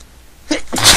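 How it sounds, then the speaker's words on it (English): A single person sneezes close up: a short indrawn breath followed by one loud, sharp burst of sneeze at the end. "I'm sneezing again"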